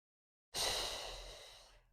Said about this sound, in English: I should hear that breath every time